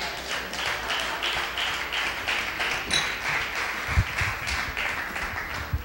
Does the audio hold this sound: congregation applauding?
yes